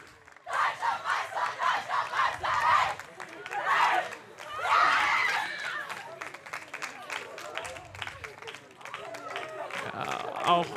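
Crowd applause and cheering fill the venue after a beach handball championship final in Düsseldorf, rhythmic rounds of clapping giving way to sustained roaring and chatter, loud and close throughout.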